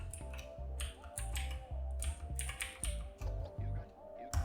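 Quick bursts of keystrokes on a computer keyboard as a muscle name is typed, crisp close clicks in uneven clusters with short pauses, fairly quiet with no talking.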